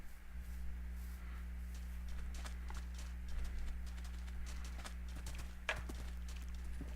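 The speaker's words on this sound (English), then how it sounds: "Somebody's got a horse." Horse hooves clip-clop at a steady walking pace in a blocky desert survival video game, moderately close over a constant low droning hum, with occasional sharper hoof knocks.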